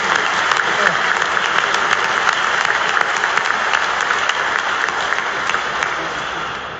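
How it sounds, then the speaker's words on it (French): A Mass congregation at Saint-Paul-hors-les-Murs applauding two bishops, sustained, dense clapping from a large crowd that holds steady for several seconds before easing off slightly. "On peut les applaudir."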